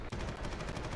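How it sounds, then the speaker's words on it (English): Rapid bursts of gunfire in the sci-fi shooter Warhammer 40,000: Eternal Crusade, dense and continuous, with repeated automatic volleys crackling through a chaotic battlefield for the whole second. "You can hear the gunfire all around and not see anybody because it's all just happening so far above."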